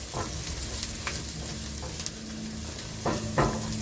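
Onions frying in a pan for homemade Chinese fried rice, cooked in a travel trailer kitchen: a steady close sizzle with scattered stirring scrapes and clicks, louder near the end, with no talking.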